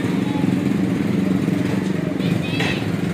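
A Honda CD70 Dream motorcycle engine idles with a steady low rumble, close by, while a voice talks over it.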